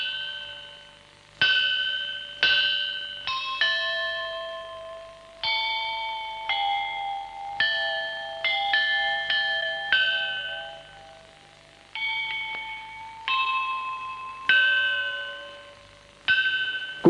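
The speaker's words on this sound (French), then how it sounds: "Les cloches de bronze scandent depuis des siècles le rituel très élaboré en usage dans le temple." Bronze temple bells sound in a long series of clear metallic strikes, each note ringing out and decaying before the next. Some strikes overlap into layered tones, with no voices heard.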